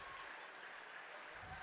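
Hometown basketball fans in a school gymnasium give a standing ovation after a girls' game, a steady wash of clapping and crowd noise that fills the space evenly.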